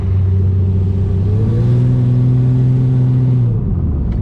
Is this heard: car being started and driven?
yes